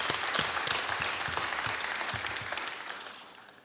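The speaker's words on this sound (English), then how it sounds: "So please, a nice round of applause to all the staff members and the students who are a big part of that." Audience applause for staff members and students at a leadership hub event, a steady wash of many hands clapping that slowly fades over a few seconds, with no talking.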